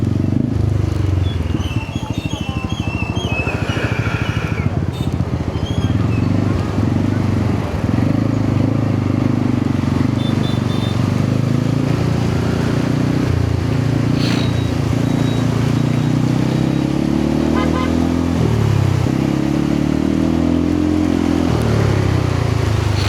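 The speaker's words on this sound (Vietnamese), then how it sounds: "Để em nghe bô rõ không?" A Yamaha Xmax 300 scooter rides at night, its engine and exhaust droning steadily and loud up close, with wind noise and a voice talking over it.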